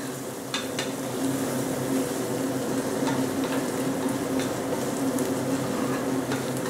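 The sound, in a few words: sautéing ingredients for mutton biryani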